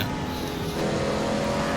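A continuous loud engine roar from a 1976 McLaren M23 racing car in the game Assetto Corsa, steady and droning, with the pitch shifting slightly as if revving, close and unbroken throughout.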